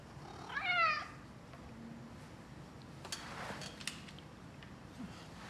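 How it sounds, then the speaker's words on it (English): A house cat in a workshop lets out one clear, fairly close meow near the start, followed by quieter shop noises and faint rustling, with no talking. "He has this meow that just destroys my concentration."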